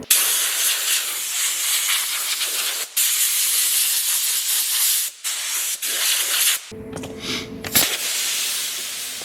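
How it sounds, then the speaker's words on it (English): Loud, steady hiss of an air compressor nozzle blowing cornstarch powder off a surface, in long continuous bursts broken by a few brief pauses, close up with no talking. "an air compressor now"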